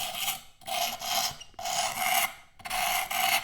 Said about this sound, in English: That's the sound of fresh stones.